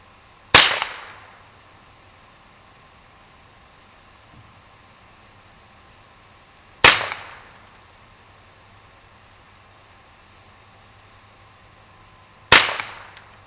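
Three sharp, loud rifle shots from a Ruger 10/22 at a shooting test, spaced about six seconds apart, each with a short decaying tail over a quiet outdoor background.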